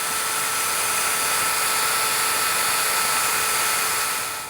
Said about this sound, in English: So we're just going to go to town drilling.